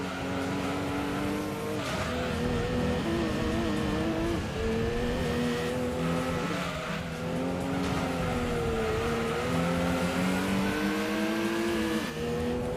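A Volkswagen Golf racing in Gran Turismo 2 against a souped-up Porsche, its engine droning and climbing steadily through the gears, loud and continuous with brief tire squeals and no talk.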